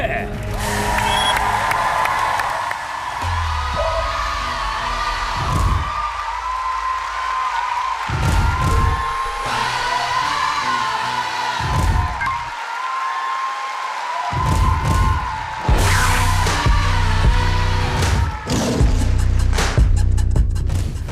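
A large crowd roars and cheers with bursts of applause as a ssireum wrestler enters the arena at a televised Korean wrestling match, loud and sustained with a voice talking over it.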